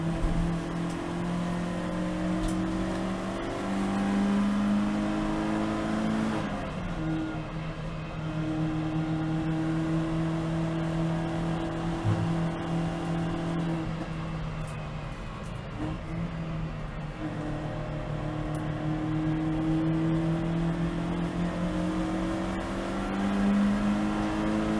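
Race car engine at a trophy race at Brands Hatch, a steady loud drone with rising and falling pitch as the car accelerates through the gears on track, continuous for the whole stretch with no talk.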